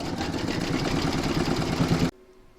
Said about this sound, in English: pop that into your machine and stitch round number 8 to secure it